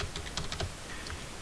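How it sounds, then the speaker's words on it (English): Quick bursts of typing on a computer keyboard, a cluster of keystrokes in the first half followed by a couple of scattered taps, close and fairly soft over a steady low hum, with no voices. "Terrible typing today, sorry about that."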